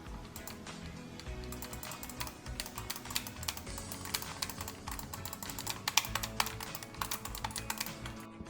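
Rapid, continuous clacking of keys on a Razer BlackWidow mechanical keyboard, close and crisp, with uneven rhythm and occasional louder strikes; no talking.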